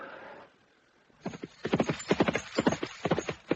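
Horse hooves clip-clopping at a brisk walk on a hard surface in a medieval radio drama, a rapid, close, uneven run of knocks that starts after a short hush.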